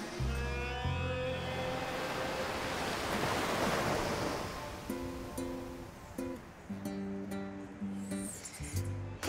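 A broad wash of surf swells and fades with a breaking wave on the beach at Halcyon Beach, St. Lucia, while steady musical tones and some wind noise sit underneath.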